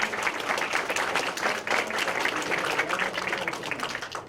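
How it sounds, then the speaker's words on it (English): Audience at a developer presentation applauds a speaker; a moderately loud, even wash of many hands clapping at once, sustained for a few seconds without speech. "Big round of applause."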